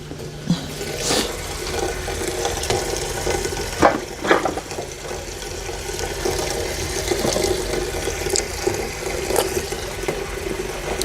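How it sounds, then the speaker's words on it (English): Cauliflower florets are rinsed in a pot of water in a home kitchen, with close sloshing and splashing, occasional clunks of pieces and the pot, continuing steadily throughout. "And then I'm gonna put them in this pot and rinse them off."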